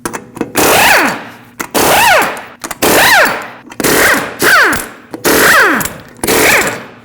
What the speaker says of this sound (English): use a 21mm socket, remove all 6 lug nuts, and then pull the wheel off